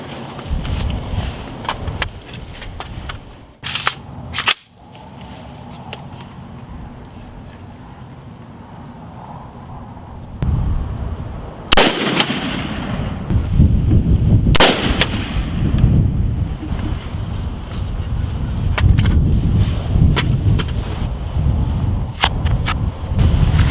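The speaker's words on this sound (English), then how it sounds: "So put on our ear protection and we'll take some shots." An AR-15 rifle is fired while sighting in on an outdoor range: a handful of sharp, loud single gunshots spaced several seconds apart over wind and microphone rumble.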